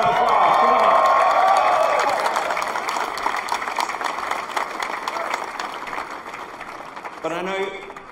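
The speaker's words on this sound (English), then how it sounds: "Give yourselves a round of applause." An audience at a Tesla live event claps and cheers, loud whoops over the applause at first that gradually thin into scattered clapping, with a voice briefly audible near the end.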